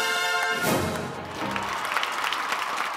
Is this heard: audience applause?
yes